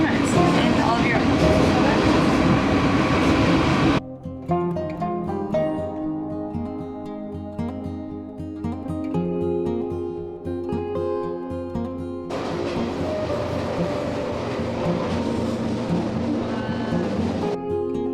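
A train ride through the Douro valley in Portugal, with loud rumbling rail noise at the start and end framing a quieter stretch of tonal sound in the middle, steady throughout.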